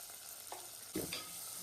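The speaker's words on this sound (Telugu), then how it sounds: "వీటితో పాటు వంకాయను కూడా కడిగి వేపిస్తుంది." Washed brinjal sizzles quietly in an oil-filled pan, a soft steady hiss broken by a couple of brief stirring scrapes near the middle.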